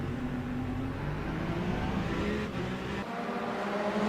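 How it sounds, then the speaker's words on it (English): Peugeot race car in a racing video game lapping the Bahrain track in an evening race, a steady engine drone that holds at moderate distance and shifts pitch slightly, with no talking. "Let's listen to that Peugeot as it goes around the track."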